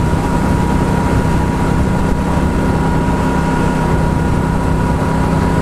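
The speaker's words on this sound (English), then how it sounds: "I'm just riding my bike, riding Clementine" A Royal Enfield Classic 350 motorcycle being ridden, its engine a steady loud drone blended with heavy wind rush, continuous throughout with no speech.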